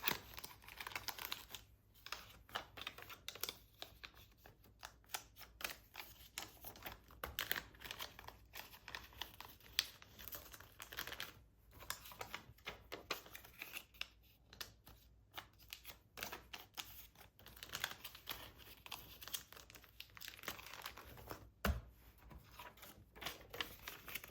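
Steady crinkling and rustling of paper envelopes and cash bills being handled and stuffed for a budgeting envelope system, close up and continuous with quick shuffling bursts throughout.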